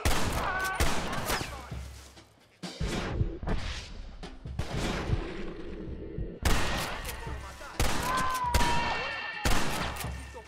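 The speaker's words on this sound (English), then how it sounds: "Get a repeater out and start repeating with bullets." A repeater rifle fires in Red Dead Redemption: a string of sharp shots cracks out in uneven bursts over game ambience, with some echoing booms and brief gaps between volleys.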